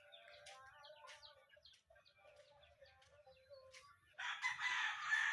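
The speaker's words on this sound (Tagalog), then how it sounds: "Yan yung mga ibang manok." Backyard pet chickens cluck and call softly nearby, then a rooster lets out a loud crow near the end.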